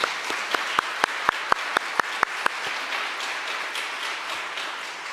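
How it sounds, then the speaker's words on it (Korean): A church congregation applauds a pastor's wife during a dawn prayer service in Holy Week, giving a full, steady round of clapping with several sharp rhythmic claps near the start. "박수로 우리 환영하겠습니다"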